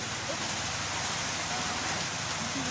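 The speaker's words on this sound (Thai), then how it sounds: "ทำกลางสายฝนเลยบัดนี้บรรยากาศดีว่าดีจ้า" Steady, dense hiss of rain falling outdoors during cooking, a loud continuous wash without breaks or distinct drops standing out.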